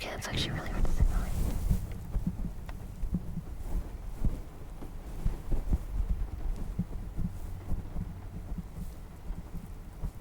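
Soft, steady heartbeat-like thumps imitated close to the microphone for ASMR, throbbing low and regular with faint whispering and breathy mouth sounds around them.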